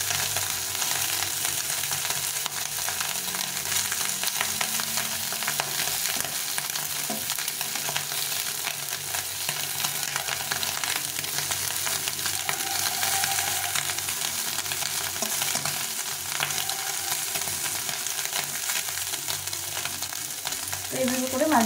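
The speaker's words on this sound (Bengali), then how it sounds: "মাছটা কত সুন্দরভাবে ভাজা হচ্ছে" Tiny mola fish sizzling steadily in oil in a frying pan, a constant close crackle with brief scrapes of a spatula stirring them, and faint talk now and then.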